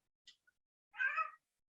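A cat gives one short, faint meow, a tiny chirp, then a fuller mid-length meow, quiet and close against otherwise silent surroundings.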